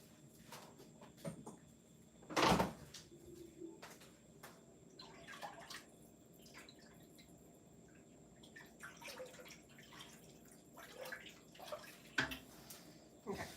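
Tap water runs faintly in a home kitchen during soup-making, a low, steady wash with scattered drips and clinks and one brief louder splash near the start.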